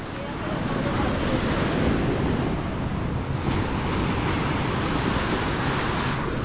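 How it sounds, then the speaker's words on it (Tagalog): Strong surf churns continuously, a dense rushing roar of waves mixed with wind buffeting the microphone. "Lakas ng alon."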